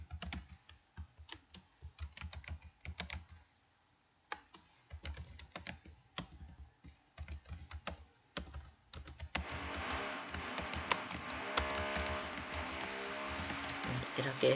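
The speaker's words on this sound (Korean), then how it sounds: "키보드를 클릭하여 내용을 입력해 주도록 하겠습니다" Rapid clicking of keys on a computer keyboard while text is entered into a PowerPoint shape, close and light with brief pauses, then giving way to louder background music toward the end.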